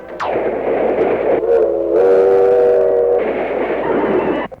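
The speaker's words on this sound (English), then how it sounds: "Freight train, going so fast." A fast freight train on a vintage recording, a loud steady rumble with a sustained whistle-like tone in the middle, all without speech.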